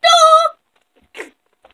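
A person imitates a rooster's crow with a short, loud, voiced cock-a-doodle call, followed by a brief quieter vocal burst.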